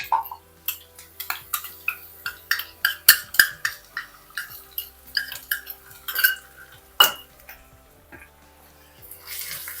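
A spatula scrapes and clinks against a pan as ginger garlic paste is stirred into browned onions, a steady run of close, sharp metallic taps and scrapes over low heat.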